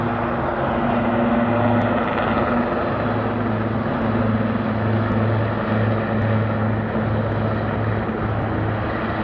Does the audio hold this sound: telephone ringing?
no